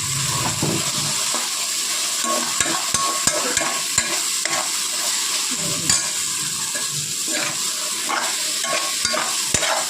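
A gongura mixture is stirred in a pan, with a constant close scraping and sizzling broken by small clicks of the spoon against the pan.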